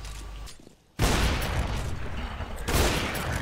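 Gunfire in the game CS:GO, with sudden loud shots and a harsh, sustained burst of noise after a brief lull, then another sharp report near the end, without talk.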